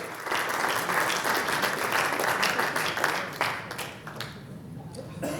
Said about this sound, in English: Bring him up with a round of applause.